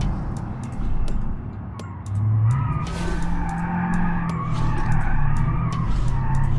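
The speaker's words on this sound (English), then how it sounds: "Wheel spin all the way up the hill" In BeamNG.Drive, a car's tyres spin and screech loudly and continuously as it powers up a hill, with the engine droning underneath and rising in pitch partway through.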